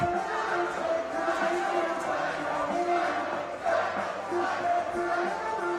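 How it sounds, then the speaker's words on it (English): Hockey fans cheering in an arena during a high school game, Rosemount Irish against Eastview Lightning, a steady crowd roar with voices and chatter throughout and a swell of louder cheering near the middle. "Rosemount fans cheering psycho."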